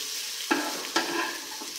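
Mashed samosa filling is mixed in a pan over a low, continuous sizzle, with two distinct scraping strokes of the spoon close up.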